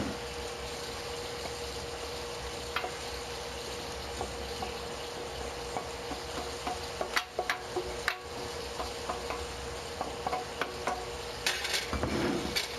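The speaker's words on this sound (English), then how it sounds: "I put a cold steak into a hot oil" A cold steak fries in hot oil in a pan, giving a continuous broad sizzle with scattered crackles and a few utensil clinks near the end.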